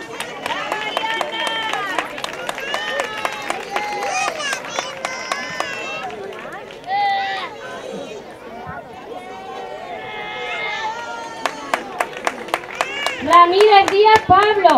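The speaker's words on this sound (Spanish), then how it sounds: "Arias Consuelo, un aplauso." Bursts of clapping from a group at an end-of-school-year ceremony in Almonte, Spain, mix with lively children's chatter and footsteps as names are called, the applause swelling louder near the end.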